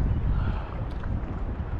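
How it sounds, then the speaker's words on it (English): Wind blows across the microphone at a Sydney shoreline during land-based fishing, a steady low rumbling buffet with no voices. "this wind's just dropped a bit"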